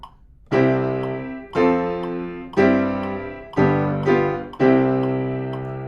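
Piano plays a cadence in C of five full, resonant chords with deep octave roots in the bass, each struck firmly and left to ring before the next.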